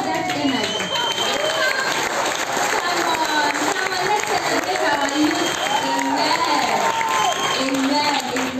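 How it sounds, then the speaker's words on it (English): A church congregation claps and cheers in a steady, dense wash of applause from a large crowd, with voices mixed into the noise throughout. "So this clap are not enough."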